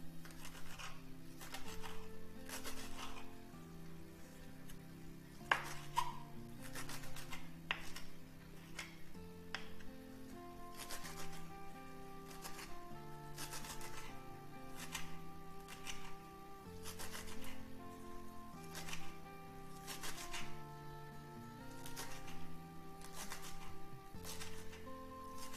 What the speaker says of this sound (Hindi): इसको हम चॉप कर लेते हैं बारीक बारीक।